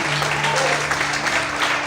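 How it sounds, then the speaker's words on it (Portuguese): Church congregation applauding during a sermon, steady dense clapping filling the room with a low sustained tone underneath. "Vamos aplaudir em forte o Senhor Jesus."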